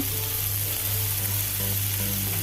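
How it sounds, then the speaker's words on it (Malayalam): Tomato and cashews frying in a pan while being stirred, making a dense, continuous close sizzle with a low steady hum underneath and no talking. "തക്കാളിയും ചേർത്ത് ഒന്ന് വാടി വരുമ്പം അണ്ടിപ്പരിപ്പ് ചേർത്ത് കൊടുക്കുക നല്ലപോലെ ഒന്ന് ഇളക്കി കൊടുക്കുക"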